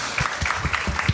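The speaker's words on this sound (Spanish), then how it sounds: "Un fuerte aplauso para ella." An audience claps at a live horror-storytelling show, a short burst of scattered, irregular handclaps, fairly close and moderately loud, with no talk over it.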